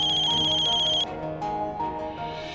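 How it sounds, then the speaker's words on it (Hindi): A phone ringtone plays a bright repeating electronic melody, then switches to a softer tune partway through, close and clear with no talking. "आपका फोन बज रहा है।"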